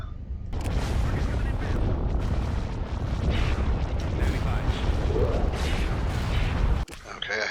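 Cannon fire from warships in the Star Wars strategy game Awakening of the Rebellion, a continuous dense barrage of booms and blasts that roars steadily for several seconds before cutting off abruptly near the end.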